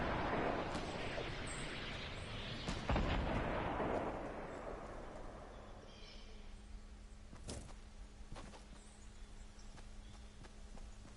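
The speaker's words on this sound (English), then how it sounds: "rockets." Booming rocket fire and explosions in a PS4 shooter game rumble in a dense roar, followed by a few sharp distant blasts as the noise fades.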